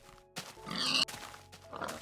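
A few grunting oinks from a pig in a video game, likely Minecraft, short close snorts over about two seconds with faint background hum.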